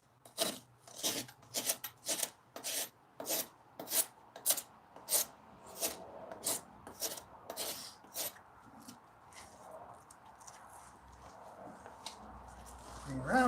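Rhythmic rasping strokes of trimming a cow's hooves in a hoof trimming station, a dozen or so evenly spaced scrapes, fairly close, then fading into softer shuffling.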